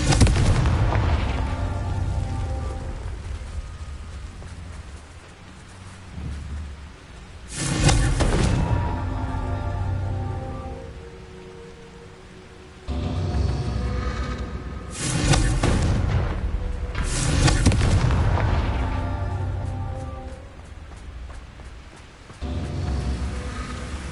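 Explosive blasts from the Confringo spell in Hogwarts Legacy burst out in several heavy booms, with rumbling decays and quieter stretches between them, loud and close.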